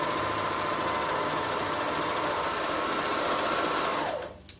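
An overlocker with its blade removed stitches a rolled hem on fine fabric, running at a steady fast whirring hum close by before slowing and stopping at the end.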